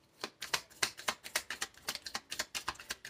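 Tarot cards are shuffled by hand in quick, crisp riffling bursts. About a dozen sharp flicks and slaps follow one another in an uneven rhythm, close and fairly quiet, with no talking.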